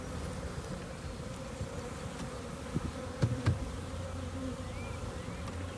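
Steady, dense hum of honeybees buzzing around open beehives, close and continuous, with a few louder individual bees passing the microphone.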